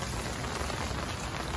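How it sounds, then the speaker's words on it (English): Rain falls steadily onto the ground outdoors, a dense, even hiss of drops lasting a brief moment with no voices. "I'm playing in the rain, guys."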